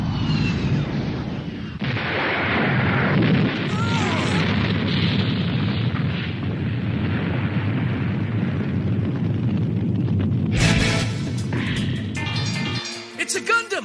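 Anime mecha battle scene with a carrier ship exploding: a long rumbling blast roar with deep low-end booms, followed by sharp metallic bursts and crackling debris near the end, loud and dense.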